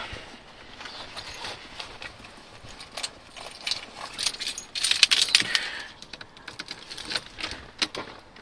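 Car keys jangle and clink close by in irregular bursts, loudest midway, with faint rustling in between.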